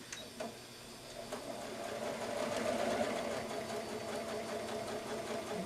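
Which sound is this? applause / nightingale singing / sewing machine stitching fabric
sewing machine stitching fabric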